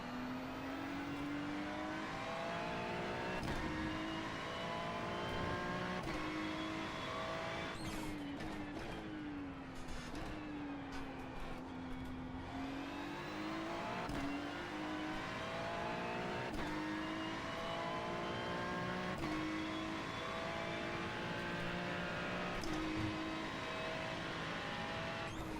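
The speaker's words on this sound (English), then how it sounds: "There's a faster class car approaching." A faster-class race car approaching during an IMSA endurance race at Daytona in a racing video game, steady loud engine drone with shifting pitch as revs rise and fall, sustained throughout with no talk.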